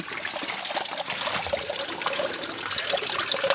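Water trickles and splashes steadily from a hose on a mountain trail, a close, continuous bright gurgle with no break and no voices.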